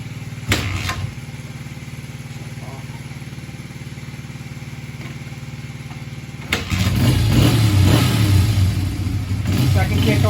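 1988 Honda XR80R motorcycle: an already running engine idles steadily, then after a couple of sharp kicks a second engine catches and runs louder and rougher at close range, with a voice talking over it.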